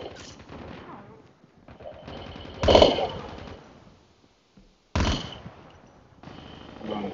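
Bursts of automatic gunfire from the Call of Duty Mobile video game, played on a 2019 iPad, crack out twice at close range, loud and sharp, between stretches of quieter game noise with talking in between.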